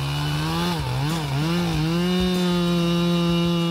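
A big chainsaw cuts through a tree, its engine a loud, close, steady buzz that dips and wavers in pitch as the chain bites into the wood, then settles into an even drone.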